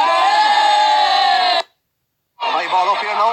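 Fans of a player shout and cheer loudly at a hurling match, the Christy Ring final between Down and Meath, a sustained crowd roar breaking off into a brief silence before more excited shouting resumes.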